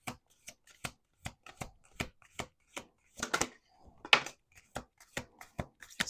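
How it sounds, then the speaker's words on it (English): Playing cards are riffled and bridged in a series of quick crisp bursts, close up, with short pauses between shuffles. "We're going to do 2 more shuffles."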